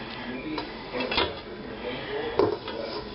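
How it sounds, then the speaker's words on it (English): Fish and potatoes are scooped from a bowl into a pot, giving faint, scattered clinks and scrapes of utensils against cookware in a quiet kitchen. "let me go ahead and transfer it over here to this pot"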